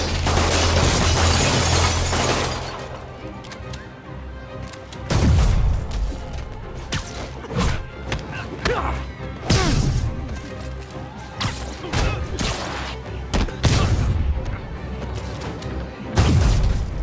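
Gunfire and impacts in the PS4 Spider-Man game: a loud opening burst followed by scattered sharp cracks, thuds and crashes at irregular intervals through a busy fight, with no one talking.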